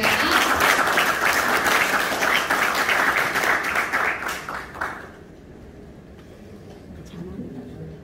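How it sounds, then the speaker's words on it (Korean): Audience applause at a formal event in Chungcheongnam-do, loud sustained clapping from a crowd for about five seconds before fading to a quiet room with faint murmurs. "여러분 박수 부탁드리겠습니다."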